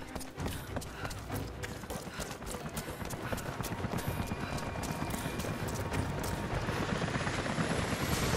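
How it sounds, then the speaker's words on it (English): Helicopters approach in the Rise of the Tomb Raider video game, a steady rotor chop that grows gradually louder and denser across the scene, with no voices heard. "helicopters are headed your way."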